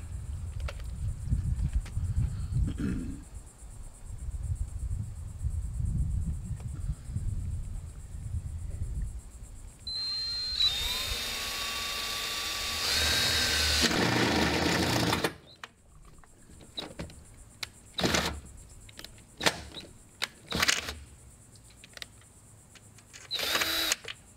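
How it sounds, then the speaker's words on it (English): A power drill bores bolt holes during garage work on a shade project, its steady whining run with rising and falling pitch lasting several seconds, loud and close, followed by scattered clicks and handling knocks. "So let's get our first hole put in."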